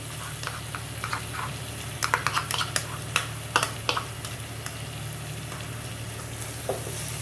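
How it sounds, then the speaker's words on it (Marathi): Yogurt stirred into frying masala in a kadhai: a steady sizzle with irregular scraping clicks and clatters of a spoon, close and continuous. "आता आपण यामध्ये दही मिक्स करून घेणार आहोत."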